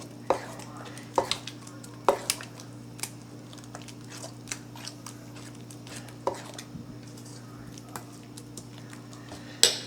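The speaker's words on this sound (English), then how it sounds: "I'm mixing." Potato kugel ingredients being mixed in a kitchen bowl, with scattered light clinks and scrapes of a utensil against the dish over a steady low hum, fairly quiet and close.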